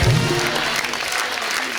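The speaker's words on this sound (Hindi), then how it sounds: "तो जोरदार तालियां नारायण फैमिली के लिए।" Loud studio audience applause on a television comedy show, a dense wash of clapping filling the whole short moment, close and steady.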